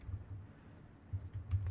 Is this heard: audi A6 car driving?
no